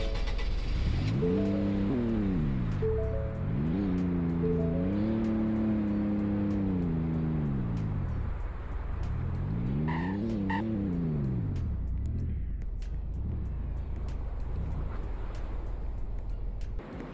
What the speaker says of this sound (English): so I pulled the car in there